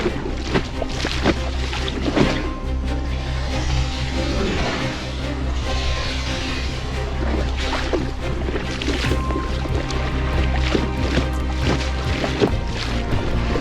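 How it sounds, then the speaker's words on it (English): Kayak paddling on the Rio Guadiana in strong wind and waves, with steady broadband wind rush and water slaps against the hull running continuously at close range, no talk. "A strong wind set in."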